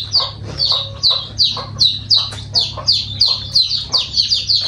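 Chickens cluck and chirp in a rapid, steady series of close, fairly loud calls over a low background hum, with no talk.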